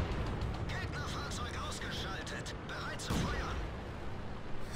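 A T29 heavy tank fires its cannon in World of Tanks, with deep artillery-like booms rolling under a continuous engine rumble while a voice talks over the action.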